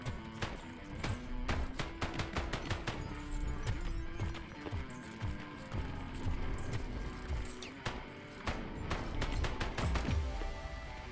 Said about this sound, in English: I like this mining gun